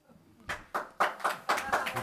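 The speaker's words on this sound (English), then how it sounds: "Josh is leading the applause on that." A handful of people at a town selectboard meeting clap, sparse and uneven, about seven distinct claps over two seconds building to a quick patter, close and fairly loud.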